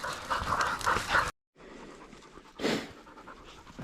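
A hunting dog pants quickly and close by while resting during a pig hunt, with a brief silent gap before the soft, rapid breathing resumes more faintly.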